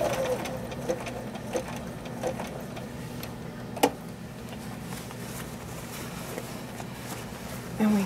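A sewing machine stitching quilt binding toward the edge and corner, with a steady low mechanical hum running throughout, a few small clicks and taps, and a voice speaking over it.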